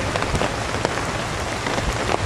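Steady rain patters onto surfaces outdoors during a Memorial Day observance, a dense, even hiss with scattered drips and no talking.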